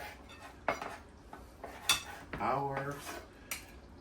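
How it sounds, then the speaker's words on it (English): Cooked chicken is chopped for garlic parmesan chicken spaghetti, heard as a handful of sharp, separate knife and utensil knocks against a board or dish, fairly quiet, with a brief metallic ring in the middle. "I'm gonna finish chopping this chicken up"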